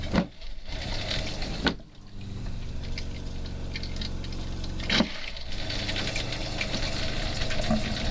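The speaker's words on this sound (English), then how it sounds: "We really want to flush our black tank out, so we're going to let that go for a little bit." Water rushes steadily through an RV camper toilet into the black tank during de-winterizing, the pink antifreeze already flushed clear, making a continuous close flow with a couple of sharp knocks.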